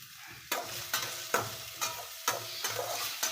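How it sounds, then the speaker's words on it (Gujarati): Chopped onion and tomato sautéing in a pan for a rice dish, with a spatula scraping through them in regular strokes about every half second over a steady soft sizzle, close and alone. "આ ડુંગળી ટમેટાં પણ સતરાઈ ગયા છે"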